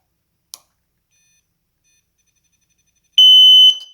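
Gel/nerf flashing sound grenade going off: after a single sharp click, a loud piercing electronic shriek sounds in one burst of about half a second, then quickly fades, no talking.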